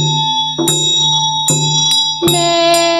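Small ritual bell rung repeatedly during Chöd chanting practice, three bright struck rings with long shimmering decay over a sustained drone, alongside damaru drumming.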